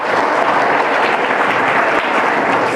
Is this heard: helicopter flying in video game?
no